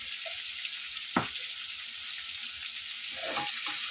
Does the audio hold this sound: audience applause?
no